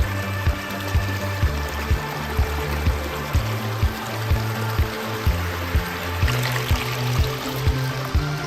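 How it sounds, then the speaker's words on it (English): Steady splashing flow of water overflowing from an upper koi pond into a lower pond, close and continuous with a faint regular pulsing thump underneath. "This pond, in turn, overflows underneath this sidewalk and then supplements the lower pond."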